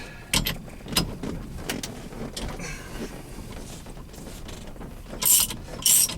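A steering wheel nut is worked loose with a hand tool during a turn signal switch replacement, giving scattered metallic clicks and ratcheting taps, then two sharper scraping bursts near the end, close and fairly quiet.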